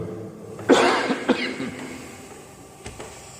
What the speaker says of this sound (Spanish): Y con tos.